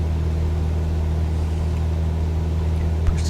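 Aircraft engine revs up for takeoff in Microsoft Flight Simulator 2020, a steady loud droning hum with strong low tones holding constant, close and continuous.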